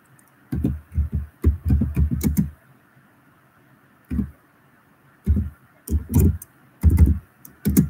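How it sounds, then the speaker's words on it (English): Typing on a computer keyboard up close, clustered bursts of clacking keystrokes with short pauses between, alone and without talk. "Let me just type."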